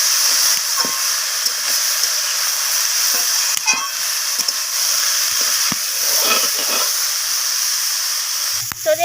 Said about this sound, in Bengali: দেখুন, এইভাবে নাড়াচাড়া করে একদম লালচে করে ফুলকপিটাকে ভাজা করে নিতে হবে।